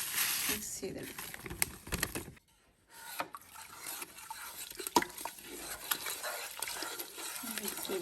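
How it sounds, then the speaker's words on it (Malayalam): A spoon stirs a turkey brine of spices and salt in water inside a pot, producing scraping, swishing strokes with clinks against the pot, close and fairly quiet, with a voice speaking over parts of it. "ഓക്കെ, അപ്പോൾ ഇത് നമുക്ക് മിക്സ് ചെയ്തെടുക്കാം."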